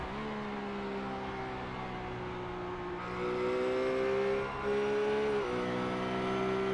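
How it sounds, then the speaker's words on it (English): Race car engines in the iRacing sim racing game at Spa brake into a corner, a steady engine drone broken by downshifts that make the revs step and fall. No voices, just the engine tones. "Just listen to the engine notes that come into the corner."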